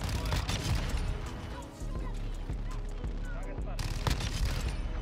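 Rapid automatic gunfire from a Fennec 45 submachine gun in Call of Duty Modern Warfare II, dense bursts of shots filling the clip with a short lull near the middle and louder firing resuming toward the end.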